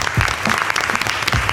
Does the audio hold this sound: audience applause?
yes